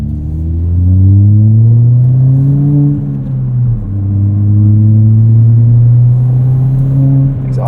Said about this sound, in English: Exhaust is still a little bit drony